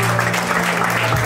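A worship congregation applauds and cheers praising the Lord, a steady dense wash of clapping and voices filling the room, loud and close throughout, with a low hum underneath.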